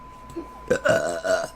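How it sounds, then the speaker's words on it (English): A woman lets out a few close, loud, guttural burps in quick succession after a brief faint sound. "Burping."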